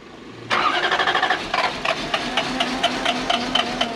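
A Lexus SC400 engine cranks with a rapid, rhythmic churning from the starter, loud and close, straining without catching, with a suspected fuel pump fault.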